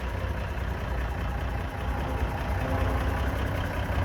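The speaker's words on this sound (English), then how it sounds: "It's got its own engine on the back and it's self-powered." A self-powered generator unit at a vintage steam and vintage show in Northumberland runs its own engine on the back, giving a steady, moderately quiet idling drone throughout with no talk.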